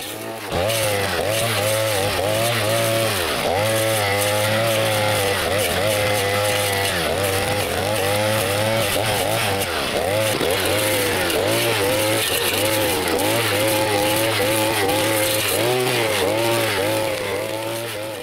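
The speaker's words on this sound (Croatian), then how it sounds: "Iako je malo teže kontrolirati košnju zbog visoke trave, trimer je ovo odradio bez nekog većeg napora" A GartenXL 5-in-1 string trimmer cutting through tall grass, its small engine whining steadily and loud for the whole stretch, pitch wavering slightly as the load on the head shifts.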